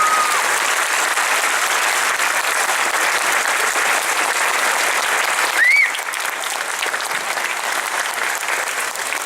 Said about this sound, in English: let's stand up and give them the round of applause that they deserve